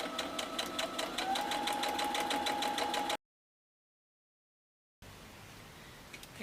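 A sewing machine chain piecing fabric squares for half-square triangles hums with a fast, even stitching rhythm up close, then cuts to silence before a softer, noisier stretch follows.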